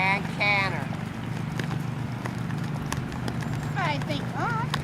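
A horse canters through a dressage lesson, its hoofbeats falling in a soft, regular rhythm beneath a voice giving instructions, with a brief whinny-like tonal sound near the start and again toward the end.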